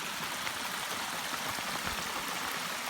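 Water runoff rushing through a road culvert, a steady broadband hiss and splash like heavy rain with no pauses.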